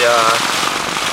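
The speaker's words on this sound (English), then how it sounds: "it's still raining out and quite windy" Rain pattering on a Cuben fiber Trailstar tent during wet, windy weather on Dartmoor, a dense steady hiss of drops close overhead, loud and continuous with a faint tonal hum at the start.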